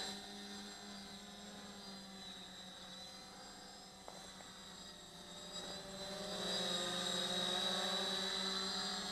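A Central UAS A350 drone flies continuously, its steady propeller whine and motor hum holding throughout and swelling louder toward the end as it passes nearer.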